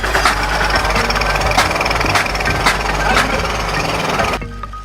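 A water pump's engine runs steadily and loud for transferring used oil at a waste-oil collection site in Côte d'Ivoire, a continuous rumbling drone with rhythmic knocking that cuts off abruptly near the end.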